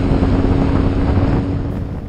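A BMW R nineT Scrambler motorcycle cruising down a freeway, heavy wind buffeting the microphone over a steady engine hum, loud and close, easing slightly toward the end.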